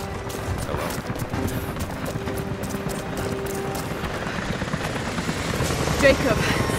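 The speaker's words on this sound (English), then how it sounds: "helicopters are headed your way" In the video game Rise of the Tomb Raider, helicopters approach with a low, steady rotor thrum that builds gradually, mixed with rhythmic clattering footsteps and background game ambience.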